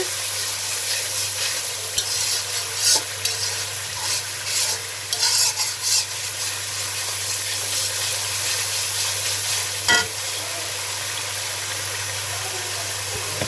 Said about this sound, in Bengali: দুইটা পাকা টমেটো দিয়ে দিলাম। এটা কষিয়ে নিচ্ছি।